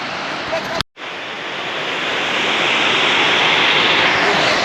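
A waterfall's rushing water makes a loud, continuous broadband roar close by. The sound cuts out briefly near the start, then returns just as full and steady.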